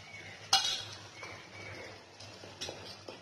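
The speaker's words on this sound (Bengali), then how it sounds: "দইটা দিয়ে অল্প কষিয়ে নিব।" Spice paste and yogurt stirred and fried in a pan for a Bengali rohu fish curry, with a few scraping stirs and a faint sizzle under quiet room noise.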